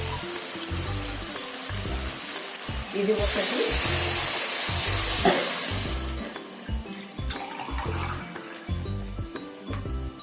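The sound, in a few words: water poured from a glass into a cooking pot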